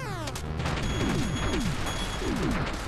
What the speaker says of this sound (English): Shotgun! Shotgun power!